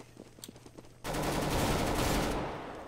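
Rapid gunfire from Counter-Strike: Global Offensive in Arms Race mode, a dense sustained burst of automatic shots that starts abruptly after a second of quieter scattered pops and stays loud to the end.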